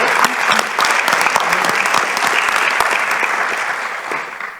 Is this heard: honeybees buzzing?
no